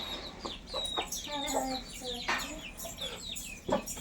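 A brooding hen sitting on a clutch of eggs, giving soft repeated clucks and low murmurs close by, with faint chirps mixed into a steady rustling background.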